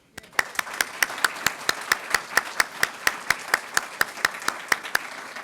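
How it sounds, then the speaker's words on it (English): Guests at a graduation ceremony applaud staff, with one sharp, close clapper beating an even, regular rhythm over softer, continuous applause from the crowd. "Give them a round of applause."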